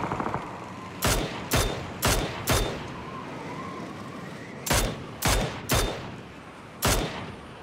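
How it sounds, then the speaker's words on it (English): Gunfire in the video game PUBG, aimed at a glider, comes as sharp single shots, four in quick succession and then four more after a pause, loud over a steady engine-like drone, with no talking. "Guy was shooting an awful lot at my glider."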